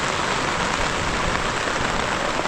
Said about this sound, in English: it looks like I've got about 2 hours of heavy rain inbound